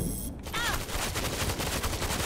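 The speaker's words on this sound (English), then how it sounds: "Auto turret!" An auto turret firing in the zombie shooter World War Z, a steady rapid stream of close, loud automatic shots beating evenly over game noise, with a brief voice just before it starts.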